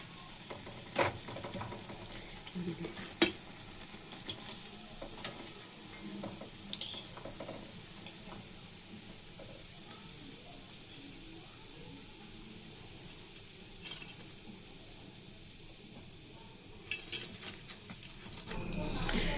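Bread pakora fries in oil with a faint, steady sizzle and patter, broken by occasional sharp clinks of a utensil against the pan.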